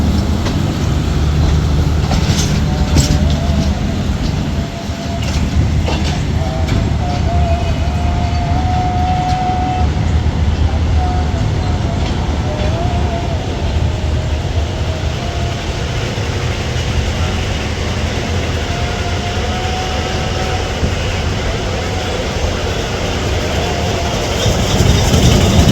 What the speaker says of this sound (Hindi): दोस्तों ये ट्रेन जा रही है 103 सुपर रेल कार।